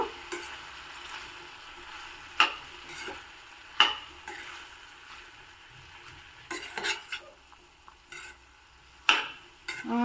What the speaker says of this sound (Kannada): ಚೆನ್ನಾಗಿ ಒಗ್ಗರಣೆ ಜೊತೆ ಮಿಕ್ಸ್ ಮಾಡಿಬಿಟ್ಟು ಬೇಯಿಸ್ಕೋಬೇಕು